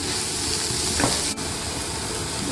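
Ginger garlic paste frying in a pan, a steady loud sizzle throughout with a brief stir scrape partway through, no voices.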